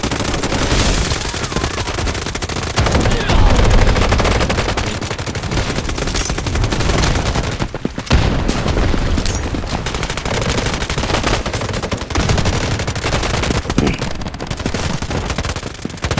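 Heavy gunfire in Delta Force Mobile during a clan wars match, with sustained rapid automatic bursts and sharp shots filling the clip loudly and continuously as a commentator talks over the battle.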